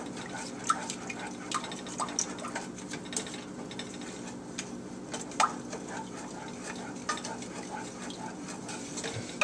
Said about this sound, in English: I'm just going to stir, mix it